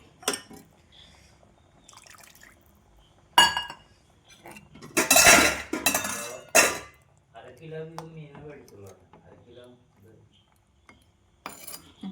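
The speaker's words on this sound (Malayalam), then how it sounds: "അത് ഏശം കൂടി വെള്ളം ഇതിൽ ഒഴിക്കണം" Water is poured into a metal cooking pot of fish curry, a loud splashing burst with clinks of utensils before and after, and no talk.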